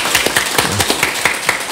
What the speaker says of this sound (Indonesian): Tepuk tangan dulu buat Adiki.